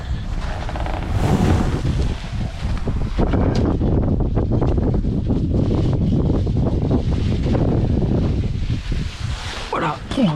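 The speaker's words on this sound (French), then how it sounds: "En plus le vent arrive par là, comme ça ici là, ça pousse un truc de dingue" Gusty wind buffets and flaps a tarp outdoors on a boat whose cabin roof and portholes are being painted, a loud continuous roar with microphone rumble lasting throughout.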